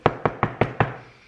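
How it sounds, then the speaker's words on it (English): Five sharp knocks on wood in a steady, evenly spaced rhythm, close and fairly loud, each with a short decaying ring, followed by quiet. "knock on wood"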